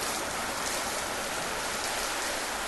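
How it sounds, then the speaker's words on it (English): Steady rain falls on a lake and its surroundings, an even, unbroken hiss of drops spattering water and ground, moderately loud with no voices. "I watch as drops of rain, falling, create bubbles on the smooth surface of the water."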